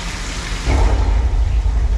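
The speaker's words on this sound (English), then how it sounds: "Or should I say movie rain, which is 5 times larger than real rain, so the camera can see it." Heavy artificial movie rain pouring down on a studio backlot tour, a steady broadband wash of falling water that swells louder partway through and stays loud and continuous.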